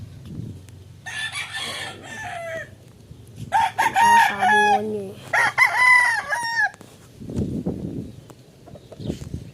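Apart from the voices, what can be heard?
rooster crowing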